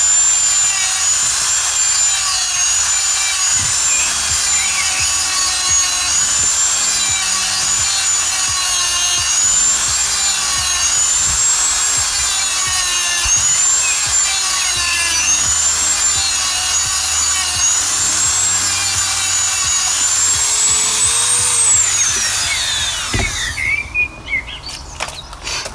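An angle grinder runs continuously, loud and close, grinding the edges of a BMW 118i reluctor ring. The high whine wavers steadily with the pressure, then cuts off near the end, with no talk.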